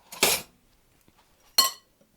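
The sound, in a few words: spoon clinking in a bowl of buttercream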